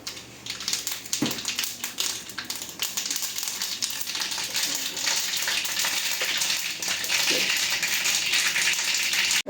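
Dense, steady crackling and popping of mustard seeds spluttering in hot oil, loud and close, with a few sharper pops standing out.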